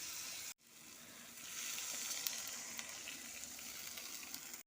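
Potatoes sauté in a pan with capsicum, tomato and ground spice paste, giving a constant loud sizzle that breaks off briefly near the start and then resumes.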